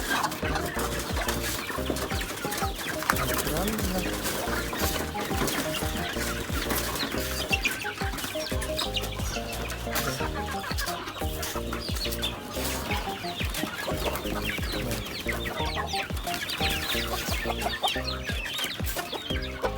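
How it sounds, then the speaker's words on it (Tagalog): Orpington hens being given layer feed cluck and chatter steadily throughout, a busy, continuous flock sound with no talk. "ito yung mga mga orpington natin so binibigay ko sa kanila ito mga layer feeds"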